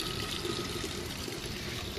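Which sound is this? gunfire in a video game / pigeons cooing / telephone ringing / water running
water running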